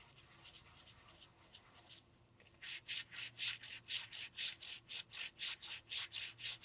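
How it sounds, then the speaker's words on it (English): A dry paint brush rubbed back and forth on a surface to clear leftover paint while painting ornaments, making soft, rhythmic scratchy strokes at a steady pace, close and quiet, with no talk. "Just keep rubbing it until the paint doesn't show up anymore."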